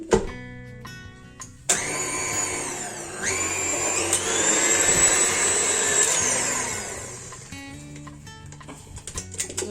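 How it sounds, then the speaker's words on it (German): An electric hand mixer whirs loudly as it beats chocolate cream for a layered sponge cake. It starts with a clunk, whines steadily at high pitch for several seconds, then winds down, and no one speaks. "Und das Ganze wird jetzt dann so lange gerührt, circa 5 Minuten, bis die Creme fest geworden ist."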